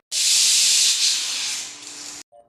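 Loud, close steam hiss while palmyra tubers are being boiled, a strong continuous rush that fades slightly before cutting off abruptly, with no talking.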